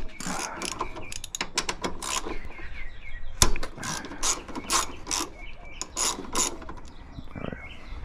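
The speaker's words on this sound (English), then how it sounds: "12 and 14 extension and socket, and we can get this whole thing removed" Ratchet wrench with a 12mm socket and extension loosening bolts during a front coilover install on a car's suspension, giving repeated sharp clicking bursts in quick runs with brief pauses, close and clear.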